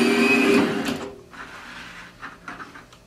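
Electric curtain eyelet punch machine cutting curtain tape: a short motorized whir for about a second, then several faint clicks and clacks of the mechanism.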